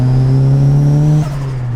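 A lowered, modified car with a loud exhaust accelerates hard in second gear close by, a deep droning engine note climbing steadily before it drops off abruptly near the end, as if the throttle is lifted.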